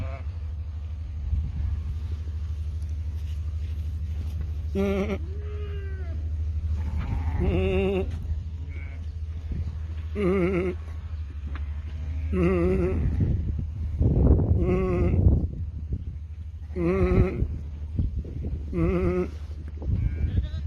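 Sheep bleating on a farm, several wavering calls spaced every couple of seconds over a low engine rumble, with people talking faintly in between.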